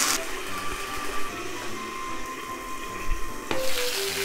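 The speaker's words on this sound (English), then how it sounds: "here, I'm gonna put in some water, about 2 teaspoons" Water poured into a hot frying pan of gyoza dumplings sets off a steady sizzling hiss of steam that runs throughout, with a sharp hiss and clatter near the end, like a lid going on.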